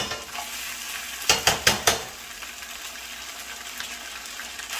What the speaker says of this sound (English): Give it a good stir up.